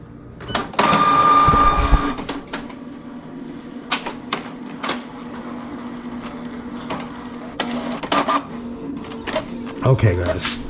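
A small shipping-label printer feeds and prints with mechanical whirring and clicking at moderate level, under intermittent talk and handling noises.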